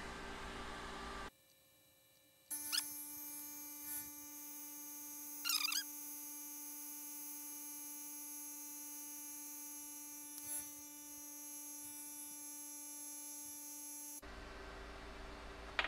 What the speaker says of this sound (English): So we're setting up the hill pump. We're going to fill to 250 bar.